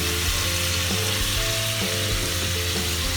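Wine reduces in a pan around beef ribs, giving a steady, loud sizzle and bubbling with occasional stirring scrapes and no voices.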